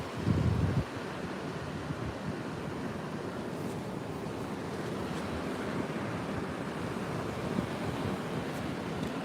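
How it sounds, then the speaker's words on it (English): Ocean surf at a Florida-style sandy beach in the morning as the tide comes in, a faint, steady wash of waves under wind noise on the microphone, with a brief louder gust at the start and no talking. "Tide's starting to come in a little bit too."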